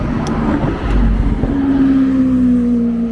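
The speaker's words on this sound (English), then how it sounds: "that's a lovely Lamborghini, open top as well" An open-top Lamborghini drives by on a Tokyo street in Azabu, its engine a loud, close rumble rising to a sustained droning tone as it passes, mixed with traffic noise and no talking.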